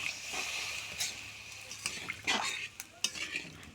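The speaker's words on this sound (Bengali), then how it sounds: "তো আমি এখানে জল দিয়ে দিলাম।" Water poured into a pan and stirred for a potato and eggplant curry, giving wet scraping and sloshing with a few clinks of a spoon on metal, close and moderately loud.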